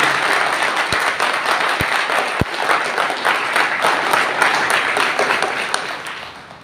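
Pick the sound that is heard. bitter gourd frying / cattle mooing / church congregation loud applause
church congregation loud applause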